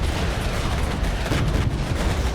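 Incoming artillery in the Regiments wargame, a dense continuous barrage of booms and blasts merging into a loud, unbroken rumble of heavy fire.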